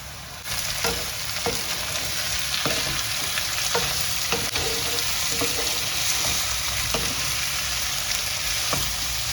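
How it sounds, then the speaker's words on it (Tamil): Dried fish sautés in hot oil with fenugreek seeds for a fish curry, giving a loud, steady sizzle with scattered sharp crackles and pops throughout, no voices. "இந்த கருவாட்டை வந்து கொட்டி வதக்கி எடுக்க போறீங்க"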